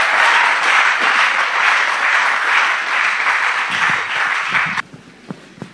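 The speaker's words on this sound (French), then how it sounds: "Clap for Jesus." A church congregation claps for Jesus in sustained, even applause that holds loud for nearly five seconds, then cuts off abruptly, leaving faint scattered claps and room noise.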